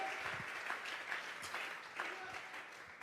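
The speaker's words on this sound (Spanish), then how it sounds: "vamos a regalarle ofrenda de palmas al Dios de la gloria" A church congregation claps in praise during a Bible study service, fairly soft and steady applause with a few louder bursts and some background voices.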